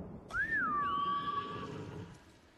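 A single horse whinnies in the video game Ghost of Tsushima, a clear rising-then-falling neigh that trails into a steady tone before fading, heard alone over quiet background ambience.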